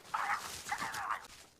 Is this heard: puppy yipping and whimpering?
yes